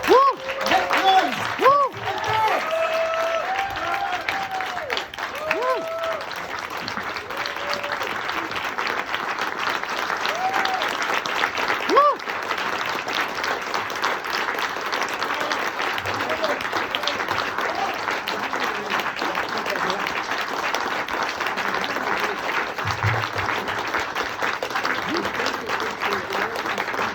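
An audience at a film festival award ceremony applauds loudly and continuously, the dense clapping starting over a brief bit of speech and then holding steady to the end.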